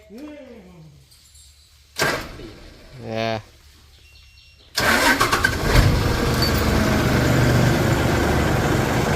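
A vehicle engine starts after a few short cranking bursts, catching about halfway through and settling into a steady, loud idle close by; a voice and birdsong are heard early on.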